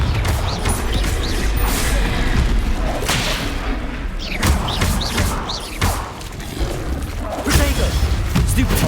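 Spell blasts from a Hogwarts Legacy wizard duel on hard difficulty: repeated booming, thudding impacts and crashes over continuous game ambience, close and loud, with a spoken incantation mixed in.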